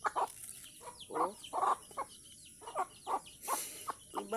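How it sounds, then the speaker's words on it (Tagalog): Farmyard chickens clucking close by, with a series of short, irregular clucks and squawks from several birds and brief quiet gaps between them. "Nang duol na akong mga manok."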